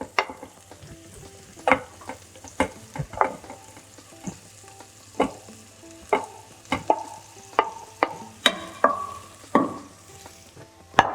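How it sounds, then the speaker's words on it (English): Vegetables sizzle in a hot pan while a utensil scrapes and clatters repeatedly, irregular knocks punctuating a soft continuous hiss. "That sizzling noise tells you your pan is nice and hot."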